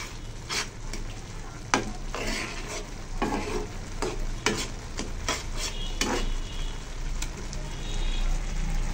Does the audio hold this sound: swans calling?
no